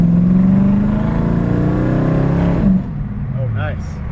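A 1967 Ford Mustang Coupe engine revs loudly and close up, its low, rising drone swelling for a couple of seconds before dropping back to idle, with a person speaking briefly near the end.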